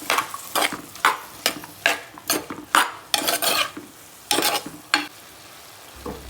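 Snake gourd and coconut are stirred in a pan with a spoon, giving a series of sharp scraping strokes at an irregular rhythm over a low sizzle. The sound is close and there is no talk.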